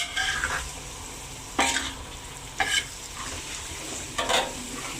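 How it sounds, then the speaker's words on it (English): Greens are stirred in a hot pan for a Sri Lankan devil curry, an even sizzle broken by three or four distinct scraping strokes of the spatula against the metal. "Turn the flame to high for a bit and gently put them in and stir them"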